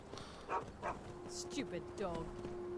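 In the video game Skyrim, a dog barks and yips a few times at middle distance, with short sharp calls over a steady low hum while someone talks.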